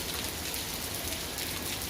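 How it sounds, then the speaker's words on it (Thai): Steady rain pours down, a dense even hiss of drops hitting surfaces with no pauses or voices. "ฝนตกนะครับ"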